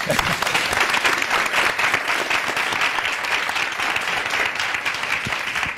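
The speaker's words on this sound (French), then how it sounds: "Applaudissez pour eux." Steady, dense applause from a large TV studio audience on the RTB show Le Samandé, loud and continuous throughout with no breaks.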